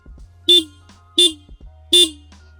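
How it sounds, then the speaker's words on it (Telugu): Three short, loud beeps from the horn of a Yamaha XSR 155 motorcycle, evenly spaced, close to the microphone. "లౌడ్ హార్న్ ఇస్తున్నారు"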